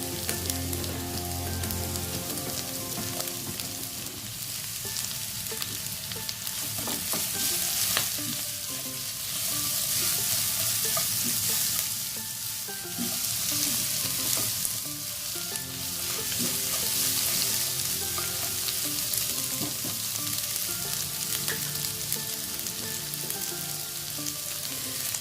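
Chopped small onion sizzling and crackling steadily in hot oil in a pan for chicken fried rice, a continuous close frying hiss with occasional stirring, no talking.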